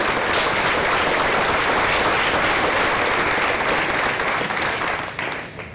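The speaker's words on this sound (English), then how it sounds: "So I want to give all of you folks a round of applause." A crowd at a school district retirement reception gives retired teachers a round of applause, dense, loud and sustained clapping that fades slightly near the end.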